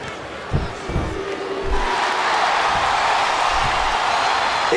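An arena crowd in the wrestling video game WWE SmackDown vs Raw 2008 roars and cheers, starting with scattered thuds and shouts before swelling into a loud, sustained wall of crowd noise.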